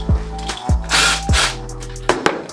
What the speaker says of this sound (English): You can use a socket or a wrench and remove it.